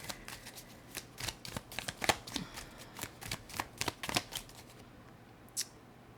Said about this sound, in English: Uh-oh, too many cards fell.